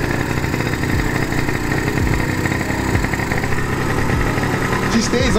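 A Yamaha Riva Razz scooter engine idles steadily on the choke, close and loud, with an uneven mid-pitched putter and occasional revs throughout.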